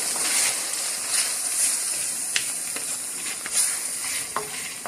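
Spices being stirred into achari moong dal in a pan, a soft continuous sizzle and hiss with faint scraping clicks of a spoon, fairly quiet and close.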